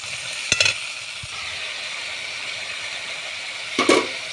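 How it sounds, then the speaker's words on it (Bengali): A spice mix with dry chili powder and salt is sautéed in oil, giving a steady, fairly loud sizzle with two brief bursts of stirring and scraping near the start and end. "মশলাটা কষিয়ে নিচ্ছি,"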